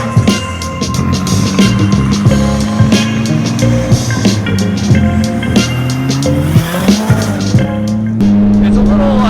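A track-built race car drives noisily through Chicago city streets, its engine loudly revving up and down with shifting pitch and bursts of tire noise, close and sustained throughout.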